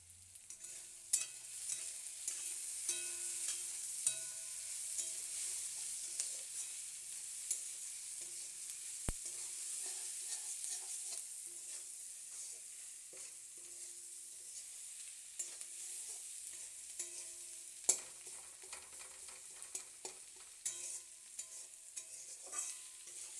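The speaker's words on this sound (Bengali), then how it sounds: "একটু মশলা দিয়ে আলুটা, পেঁয়াজটা, রসুনটা দিয়ে একটু কষিয়ে নিলাম" Potato, onion and garlic frying with spices in a kadai, a long even hissing sizzle punctuated by light, regular stirring clicks and occasional louder scrapes.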